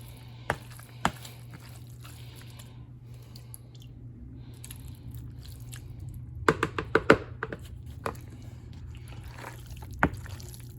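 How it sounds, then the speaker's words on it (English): Juices are ladled over pulled pork cooked in an Instant Pot and mixed in, producing soft wet squishes, drips and scattered clinks and taps. The sounds come in uneven bursts over a low, steady hum. "I'm gonna ladle some of these juices over it and mix them in"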